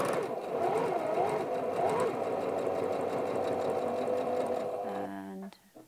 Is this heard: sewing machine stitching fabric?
yes